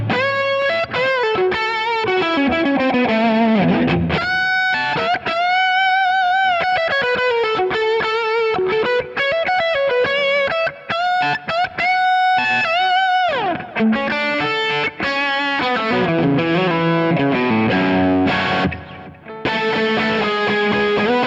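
An electric guitar runs through a louder Kemper amp profiler preset with effects and some distortion, playing a continuous, busy melodic line with sustained notes and slides for about twenty seconds, without talk.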